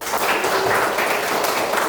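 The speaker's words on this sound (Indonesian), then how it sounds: "Oke, tepuk tangan semuanya." A classroom of students applauds together in a dense, steady burst of clapping that fills the room, loud and continuous without a break.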